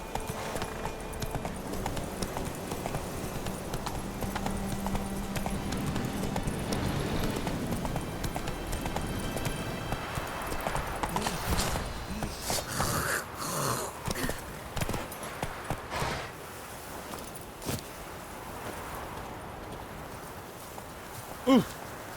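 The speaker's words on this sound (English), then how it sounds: "Run, Roach." A horse gallops in The Witcher 3 with hoofbeats clip-clopping steadily under dense game sound and music. The action fades into scattered thuds and a final loud knock.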